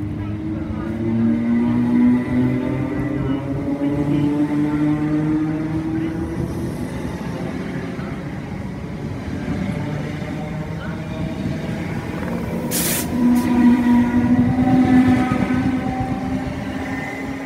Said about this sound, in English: Now passing is a Virgin Trains to Euston, and this is going to Tring.